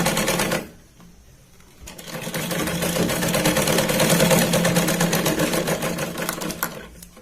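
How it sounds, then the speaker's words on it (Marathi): Sewing machine stitching a dress belt cut from a sari, a brief whir then a long fast steady mechanical chatter close by, running without pause to the end. "शिलाई लावून घेऊया"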